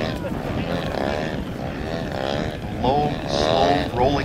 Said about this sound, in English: They're able to actually hang the airplane on the propeller.